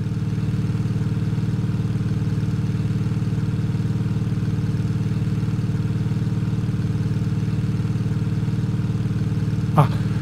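A motorcycle engine in the horror game Siren Head Retribution idles in a steady, droning hum at constant loudness, a fitted muffler shaping its tone, with a brief rising whine near the end.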